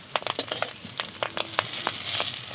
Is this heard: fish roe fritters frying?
yes